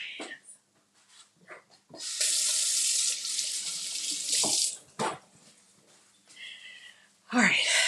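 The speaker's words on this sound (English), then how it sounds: "let me clean up, wash my hands, clean as you go" A kitchen sink tap runs for a few seconds while hands are washed under the stream, a close, loud rush of water that starts, stops and starts again, with brief clatter and a person speaking between bursts.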